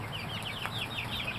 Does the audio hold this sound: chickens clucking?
yes